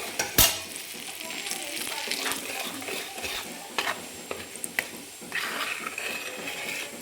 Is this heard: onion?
yes